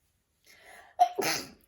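A single close, sharp sneeze from a person indoors, preceded by a brief voiced inhale and trailing off quickly.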